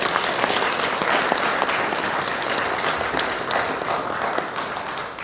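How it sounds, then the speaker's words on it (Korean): A church congregation at a Sunday service breaks into loud, sustained applause, dense and steady clapping filling the room for several seconds before tapering slightly. "인사하실 때 큰 박수 부탁드립니다."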